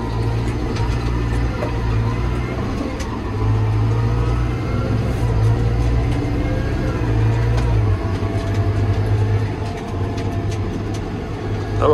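A Fendt tractor engine hums and pulls steadily on the road to deliver wheat, a low, continuous drone with faint rising strain and light mechanical rattle.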